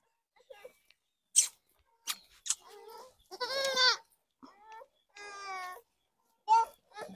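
Two-month-old goat kids on a goat farm bleat in short, wavering cries, several overlapping calls spaced across quiet gaps, close by and fairly loud.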